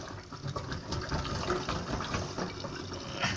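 Water running and gurgling down a kitchen sink while dishes are washed, a continuous rushing, splashing flow at close range with no talk.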